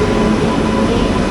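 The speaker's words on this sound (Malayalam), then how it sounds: "അപ്പോൾ നമ്മുടെ ട്രെയിൻ അങ്ങനെ കയറി വരുന്നുണ്ട്" A Humsafar Express train hauled by a WAP-7 electric locomotive of Valsad shed arrives at a station, a steady loud rumble and hum of rolling coaches, close and continuous without talk.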